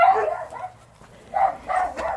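Malamute and other dogs barking, a couple of short bursts at moderate distance with a pause between them, outdoors on Halloween.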